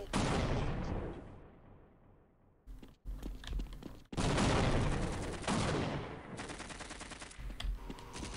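Video-game gunfire aimed at the player during a Xen invasion: loud bursts of rapid automatic fire, broken by brief silences and a quieter stretch, then more close, harsh volleys.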